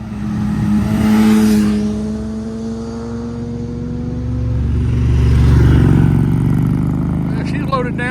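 A loaded-down Pinto station wagon drives the Dragon road, its engine droning steadily and swelling as it climbs past, a fairly close, continuous hum with outdoor wind, no voices.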